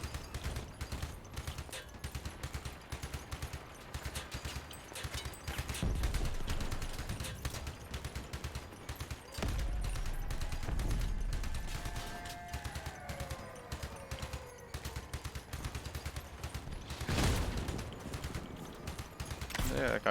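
Rapid auto cannon fire rattles in the vehicle combat video game Crossout, a fast, continuous stream of sharp clattering shots with heavier rumbling swells, under intermittent talk.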